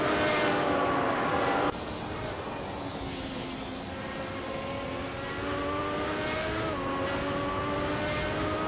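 Race cars in a racing video game, a loud steady engine drone with layered whining tones that shift pitch as the cars speed along, with no talking.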